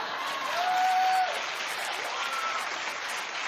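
A studio audience on a daytime talk show claps steadily, a dense continuous patter of many hands, with a short whistle-like tone rising above it early on.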